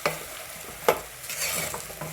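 Spiced rice (masala bhaat) with whole garam masala being stirred in a pot, with a few sharp scraping strokes and soft gritty rustling of grains between them, close and fairly quiet with no talking.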